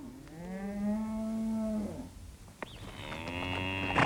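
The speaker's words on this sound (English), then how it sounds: "bringing in the cattle who graze freely over the vast open range" A herd of cattle moos on a vast open-range outback station, with a long low bellow followed by another drawn-out call, loud and near, with no talk.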